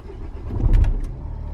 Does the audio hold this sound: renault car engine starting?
yes